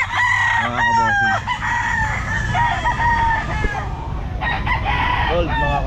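Loud, close crowing from gold stag roosters at the Grotto Pet Market, several overlapping cock-a-doodle-doo calls with clucking among other fowl over a busy market background.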